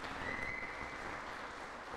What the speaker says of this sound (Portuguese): Sempre aplaude, vibra, né?